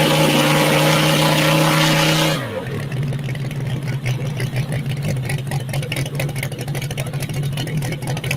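A propeller plane's piston engine settles from a higher-pitched run into a steady, throaty idle with a burbling rumble much like a 350 V8, loud and close with no voices over it.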